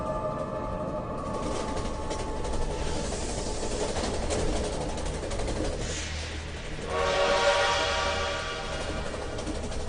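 A train at a railway station rumbles steadily, with a horn or whistle-like tone rising near the end, heard in the foreground with no talk.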